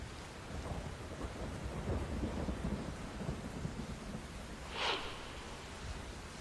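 Heavy monsoon rain falling steadily, a soft continuous hiss with low rumbling underneath and one short brighter splash near the end, faint and distant, no speech.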